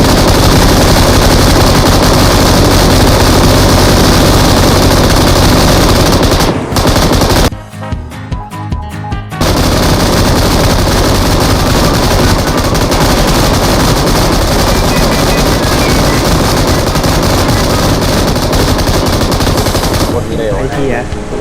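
M249 machine gun in PUBG Mobile fires long, loud sustained bursts with only brief pauses, close up and dominating, while players shout over it.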